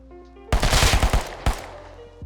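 Short automatic SMG bursts in the survival game Rust, fired with iron sights: a rapid volley of about eight close, loud shots, then a pause and one more quick shot.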